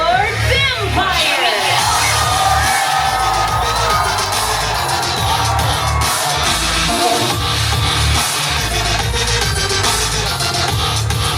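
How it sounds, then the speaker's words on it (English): A costumed crowd at a Halloween trick-or-treat event at LEGOLAND California lets out sustained screaming and cheering, loud and continuous, with a booming amplified voice and music pulsing underneath. "Now give a big monster scream for your host, Lord Vampire."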